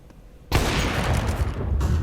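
Sudden burst of pistol gunfire in a CS2 match, cracking in after a quiet half second and continuing as a dense, loud volley of overlapping shots before easing slightly near the end.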